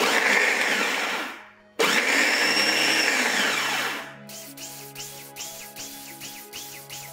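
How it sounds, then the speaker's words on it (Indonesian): An electric food chopper grinds a spice paste for spicy crispy tofu, a loud steady whirring motor that cuts out briefly, restarts, then stops and gives way to background music. "proses chopper hingga bumbu lembut atau sesuai selera"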